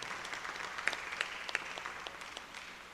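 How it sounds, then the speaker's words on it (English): Conference attendees at a reggae conference session give faint, distant applause to welcome a panel speaker, with brief scattered clapping that tapers off after a few seconds. "Please give him a rousing round of applause for being here."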